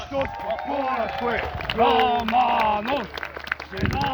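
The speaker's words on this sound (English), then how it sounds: "a wee cheer and a round of applause" A crowd cheers and shouts while hands clap throughout at Fort George, voices rising loudly over the steady applause.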